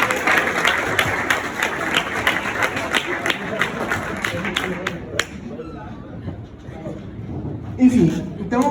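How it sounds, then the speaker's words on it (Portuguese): An audience breaks into applause for a friend being thanked during a talk about an Olympic campaign, a crowd clapping in crisp, dense bursts for about five seconds before it fades into murmuring voices and a brief rustle near the end. "Uma salva de palmas aí para o Luquinhas"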